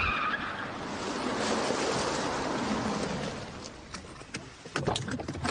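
Car tires skid and hiss loudly as a vehicle pulls over, making a long broadband scraping rush that fades after about four seconds into a few sharp, brief knocks.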